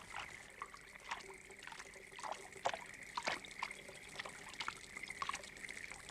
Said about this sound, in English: they're brushed in boiling water.